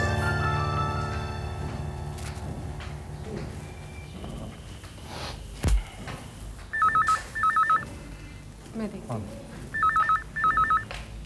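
Telephone ringing in a TV drama scene: two sets of shrill electronic double-burst rings a few seconds apart, preceded by a low background hum with faint talk.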